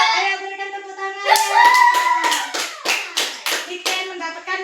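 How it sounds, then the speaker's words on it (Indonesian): Hands clap in a classroom: a burst of fairly close, rhythmic applause with separate sharp claps, starting under a voice that is still talking and then continuing on its own. "Ayo berikan tepuk tangan."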